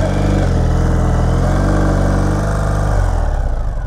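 A sidecar motorcycle engine runs loud and close, a steady throbbing drone that dips briefly near the end as the throttle eases, with no voices.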